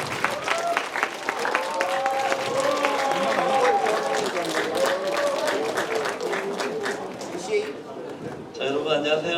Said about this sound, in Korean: 우리 큰 박수로 장종택 목사님 모시겠습니다